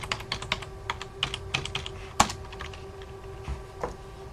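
Quick, uneven keystrokes on a computer keyboard tap out a password, followed by a single sharper key strike and a few scattered final presses over a faint steady hum.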